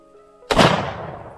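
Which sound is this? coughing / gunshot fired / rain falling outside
gunshot fired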